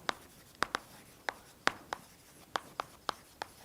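Chalk or marker strokes on a lecture board, a dozen or so sharp taps and short scratches in an irregular rhythm, close and clear with no talking.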